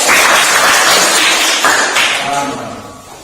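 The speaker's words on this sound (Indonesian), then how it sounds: "kita berikan tepuk tangan kepada kelompok" A classroom group receives applause from students, a dense burst of clapping that starts loud and fades over a few seconds.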